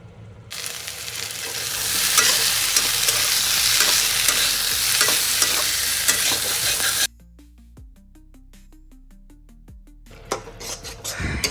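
Whole coriander, cumin, cloves and black pepper frying in a pan, a loud close sizzle with stirring scrapes for several seconds, then a quieter stretch of spaced clinks and taps before the frying noise returns.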